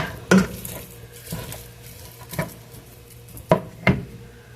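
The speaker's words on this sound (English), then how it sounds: "I'm going to finish cooking up this ground beef" Ground beef cooks in a pan under a low, steady sizzle, broken by several loud spatula scrapes and clanks as the meat is stirred.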